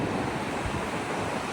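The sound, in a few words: flowing river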